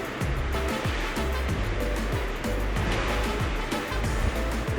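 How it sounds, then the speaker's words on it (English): Ocean surf rumbles and washes in close by at night in Old San Juan, Puerto Rico, a continuous heavy roar with low churning swells and no talking. "you might be able to hear the waves just starting to crash too"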